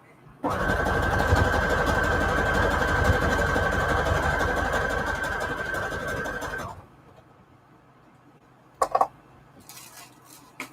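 A sewing machine stitches scrap lace trim in one steady, loud run of about six seconds, with a whine under it, then stops; a few brief knocks follow in near silence.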